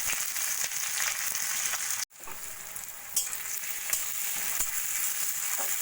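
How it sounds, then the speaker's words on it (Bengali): Thinly sliced onions fry in hot oil in a kadai with whole spices, a steady close sizzle that briefly cuts out near the middle before resuming, with occasional stirring clicks and no talk. "পেঁয়াজটা আমি ভালো করে একটু সোনালি করে ভেজে নেব।"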